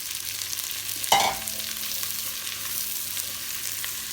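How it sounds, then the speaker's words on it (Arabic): Half a kilo of small diced onions dropped into hot fat and oil in a pan, a sharp burst of sizzle at the drop followed by a steady, moderate frying hiss. "وبعدين احط بصل مقطعيته مكعبات، شي نص كيلو بصل مكعبات صغيرة"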